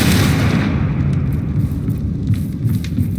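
A Confringo blasting spell in Hogwarts Legacy bursts as a loud, dense rumbling explosion that fills the whole moment, booming low and sustained without pause.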